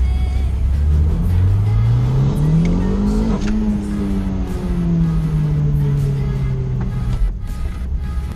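A boosted Toyota MR2 SW20 engine accelerates hard down a short straight at NJMP on a rainy track day, its loud, steady note climbing in pitch through a gear before holding and easing, close and continuous.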